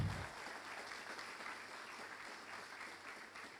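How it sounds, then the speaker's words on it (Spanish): A church congregation at a Sunday service applauding steadily for a few seconds, a dense, even wash of clapping with no voices on top. "Denle un aplauso al Señor en esta mañana."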